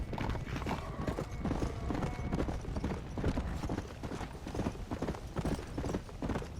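Horse hooves clip-clop at a steady trot in Red Dead Redemption: Undead Nightmare. The hoofbeats are close and continuous, with a brief whinny and no talking over them.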